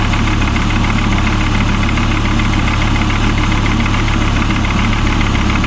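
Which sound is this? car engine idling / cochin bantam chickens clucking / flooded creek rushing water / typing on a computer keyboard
car engine idling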